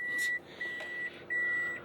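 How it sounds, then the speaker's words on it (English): A vehicle's reversing beeper sounds a steady series of long electronic tones with short gaps, over a low engine hum, in Rarotonga, Cook Islands. "As you can hear, we are reversing. Beep, beep, beep."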